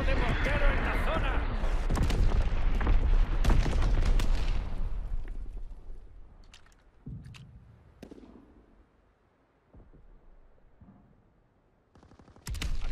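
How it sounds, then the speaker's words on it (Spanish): Mortar fire in Call of Duty WWII multiplayer on PS4 brings a dense run of loud booming blasts and rapid gunfire, then thins to sparse, more distant shots and thuds before a final burst. "Disparo de mortero en la zona."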